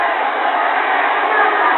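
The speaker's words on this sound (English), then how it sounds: "And Oklahoma starts shouting, hold that line, hold that line." Football stadium crowd at the 1957 Notre Dame at Oklahoma game chanting loudly, a dense, continuous roar of many voices shouting together with narrow, old-broadcast-style tone.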